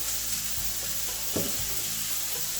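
Scallions hit hot oil in a pan, hissing into a steady sizzle with a brief clatter of stirring partway through, no voices.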